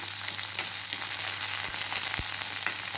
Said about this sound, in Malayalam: അത് ചൂടായ ഇതിനെ ഒന്ന് വഴറ്റിയെടുക്കാം